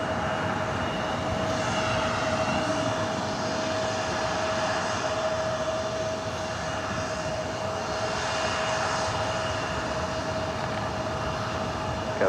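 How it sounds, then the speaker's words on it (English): Delta Embraer E175 LR jet taking off from LAX, its engines a loud, steady roar that holds for the whole stretch, with a sustained high whine running through it. "This flight heading to SFO in this E175 LR."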